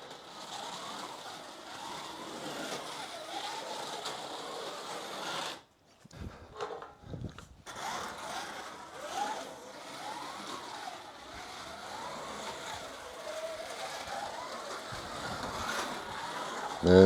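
A Ninco Mitsubishi Evo rally slot car whirs steadily around the track, its motor whine rising and falling through the lap with a brief drop-out midway.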